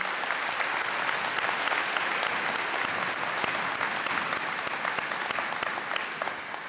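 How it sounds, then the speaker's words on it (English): Applause for college faculty at a commencement ceremony, a broad steady roar of a large crowd clapping, heard at a distance in a big space and fading slightly at the end. "So let's give them a big round of applause."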